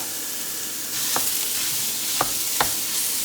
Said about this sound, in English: while our skillet is nice and hot, we're gonna cook our ground beef